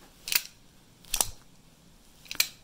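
Three short, sharp rattling clicks spaced about a second apart, a moving weight and hooks knocking inside a hollow plastic fishing lure, close and fairly faint.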